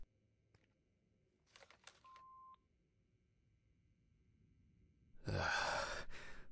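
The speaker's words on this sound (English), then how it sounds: "I'm calling Stephen" Telephone dialing in the video game Autopsy Simulator: a short series of clicky keypad tones and a steady beep, followed by a louder burst of ringing or line noise near the end, with no talking.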